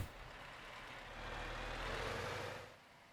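A nearby truck in the multiplayer truck game TruckersMP makes a steady engine rumble and a broad road hiss that swell as it passes close, then drop away.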